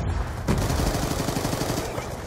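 Rapid bursts of gunfire from the video game Black Ops 2 in a Hardpoint match, dense and continuous, with shots rattling through the whole moment in a steady rhythm.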